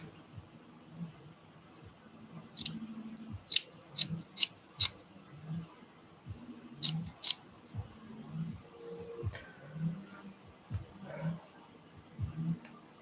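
Scissors snip while trimming a handmade art doll, a series of sharp close cuts in irregular bursts, some quick doubled snips, over a low background rustle.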